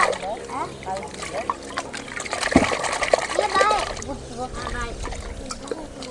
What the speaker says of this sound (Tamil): இறச்சி வச்ச பருப்பு தண்ணி ஊற்றிக்கலாம்.